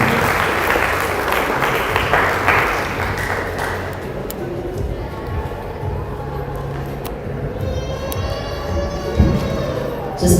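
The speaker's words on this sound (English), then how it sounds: "Let's give a round of applause for just Kiran" Applause from an audience at a Sikh community gathering, a dense clapping crowd that gradually thins and fades over about ten seconds, with some faint tonal ringing toward the end.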